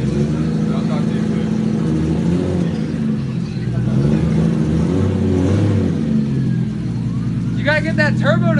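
Turbocharged car engine revving up close, a steady mid-pitched drone that swells slightly while people talk over it.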